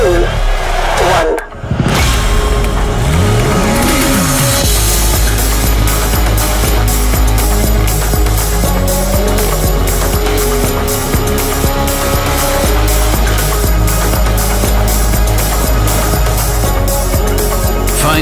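A Porsche fitted with Tequipment performance parts laps a racetrack, its engine roaring loudly and continuously with rising and falling revs and gear changes, close and dominant throughout.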